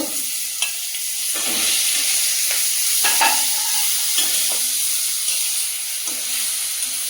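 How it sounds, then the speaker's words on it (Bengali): Prawns frying in oil in a pan, a loud steady sizzle with crackling bursts and occasional scrapes of a spatula, close and continuous with no voices. "মাছগুলো তুলে নেব, এগুলোও ভেজে নেব।"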